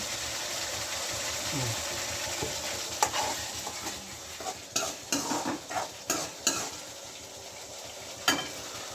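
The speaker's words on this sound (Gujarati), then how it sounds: "હવે ગ્રેવી થોડી પર પકાવશું. ગેસ ધીમો કરી લે." Sev bhaji gravy cooks in a pan over a low gas flame and is stirred, with soft steady sizzling and a series of irregular spoon knocks and scrapes against the pan.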